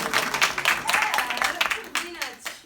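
A classroom of students claps for a classmate in a brief, uneven burst of hand claps, with a teacher's voice speaking over it.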